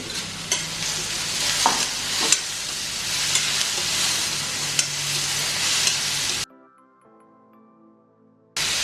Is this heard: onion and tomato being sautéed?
yes